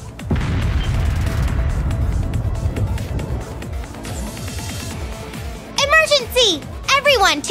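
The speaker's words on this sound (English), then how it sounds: "Such firepower! Those are the new Rhineford Railway cannons." Distant booms of huge railway cannons firing in the video game Trails of Cold Steel III, heavy low rumbles rolling under game music and voices.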